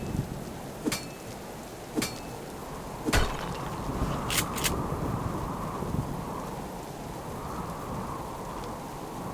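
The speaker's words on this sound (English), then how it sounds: "All I've heard all day is the rain." Steady rain during a storm in the survival game Subsistence, a continuous broad hiss throughout with a few sharp knocks and clicks near the start and no talk.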